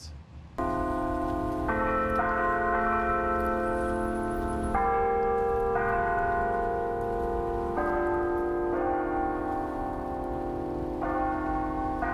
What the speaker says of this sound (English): The bells first rang a verse from the hymn Amazing Grace, then tolled 3 times